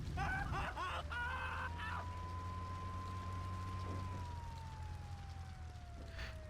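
Ambulance siren in the video game Grand Theft Auto III, a single long wailing tone that rises, holds and then slowly falls, moderately loud over a low rumbling game background with no speech.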